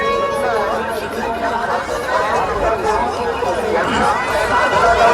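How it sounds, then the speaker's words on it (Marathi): A large crowd chatters at the Mhasa village fair, a dense continuous babble of many voices close around with overlapping talk and no pauses. "खूप जास्त गर्दी झाली"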